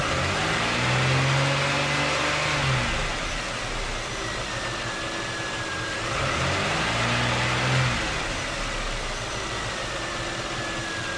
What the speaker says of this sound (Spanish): Aquí, por ejemplo, le voy a dar una acelerada.